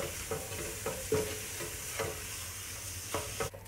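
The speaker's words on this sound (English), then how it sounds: "Stir it through." A chilli con carne spice paste of chilli and tomato puree is stirred in a hot pan, soft scraping strokes repeating every second or so over a quiet, steady sizzle.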